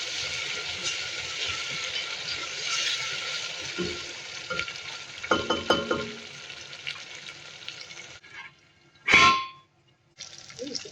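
Garlic and tomato fry in a pan for veggie Indomie noodles, a steady broadband sizzle with stirring scrapes and a few clangs, broken near the end by a short gap and one sharp louder hit before the sizzle resumes.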